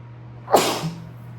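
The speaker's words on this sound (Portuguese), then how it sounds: "Então, vou espirrar." A single sharp sneeze bursts out close by, over a low steady hum.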